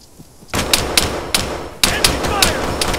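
Enemy gunfire in the Arma 3 military shooter: loud, sharp single shots and short bursts crack out in an irregular rhythm over a continuous battlefield din.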